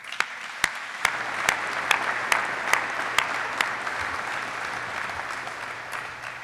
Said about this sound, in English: round of applause for everybody who put this together, to include the museum staff.